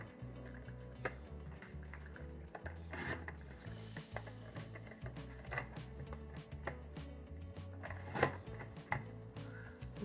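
Scissors cut small squares of colored cardstock for a handmade card, giving quiet close snips and rustling paper handling in irregular bursts with occasional light taps.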